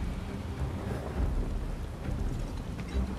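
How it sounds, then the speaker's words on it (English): Steady heavy rain and low rumbling thunder fill a stormy scene in the video game Final Fantasy VII Rebirth, a dense continuous downpour with a stronger roll of thunder swelling midway and again near the end. "Look at that, thunder and lightning. It's really coming down"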